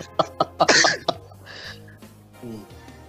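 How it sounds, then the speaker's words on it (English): A man coughs several times in quick, harsh bursts up close, followed by a throat clearing and softer breathy noises, with no talk. "Apologies to anyone listening in that hears me coughing"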